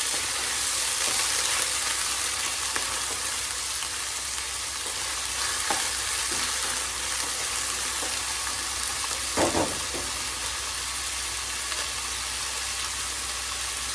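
Chopped potatoes fry in a pan with a dense, even sizzle, loud and close, carrying on unbroken with a few faint stirring knocks and no talk.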